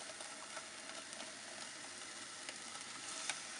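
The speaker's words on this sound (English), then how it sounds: "I'll let the leeks cook in that instead of adding oil" Leeks simmer in fish stock in a pan, giving a soft, steady sizzle and bubbling hiss with occasional small pops, quiet and continuous with no talking.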